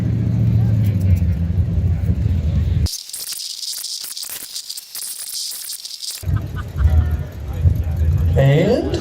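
A Chevelle car engine roars loudly for a few seconds, a harsh sustained blast rising over a noisy crowd with voices before and after.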